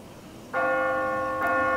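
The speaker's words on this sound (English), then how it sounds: "So I guess we're just going to ring the bell." Two clear tolls of a large bell ring out in The Walking Dead video game, the first sustaining with a long resonant hum before a second strike joins it, loud and close with no talk.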